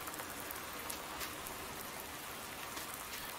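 Steady rainfall in the farming video game Farming Simulator 19, a dense, even hiss of raindrops that runs unbroken from start to end with no voices.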